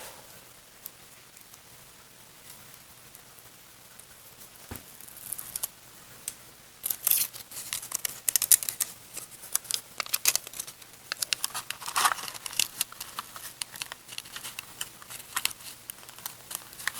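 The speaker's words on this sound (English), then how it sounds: "I'm going to cut a strip in here so that can go around that" A strip of material cut by hand around a post to protect a K-line caboose, heard as close, irregular snipping and crinkling that begins faintly and grows busier, with no voices.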